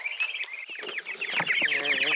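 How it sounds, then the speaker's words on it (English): Meat chickens cluck and chatter in a quick, busy string of close, fairly loud calls from a small flock, with no talking. "Now we're going to go get those meat birds."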